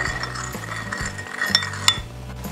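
A spoon stirs sugar into warm water in a glass or bowl while making pizza dough, producing light repeated clinks and scraping taps, with a couple of sharper rings standing out, close and alone.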